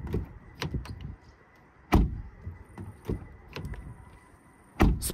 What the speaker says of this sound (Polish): Posłuchajmy, jak zamykają się drzwi.